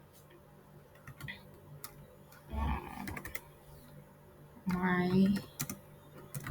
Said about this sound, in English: Let me try typing something.